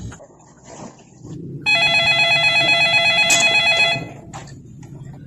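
Telephone bell ringing loudly and close by in a rapid trilling burst lasting about two seconds, preceded and followed by quieter background noise.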